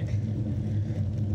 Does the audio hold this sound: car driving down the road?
yes